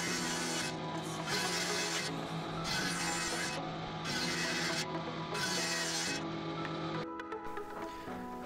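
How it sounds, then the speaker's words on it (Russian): A power saw cuts wooden boards for a lightweight eight-frame beehive in a workshop, its steady whine punctuated by repeated rasping passes of roughly a second each, close and continuous, with no talking. "с другой стороны пропускаю под пилку"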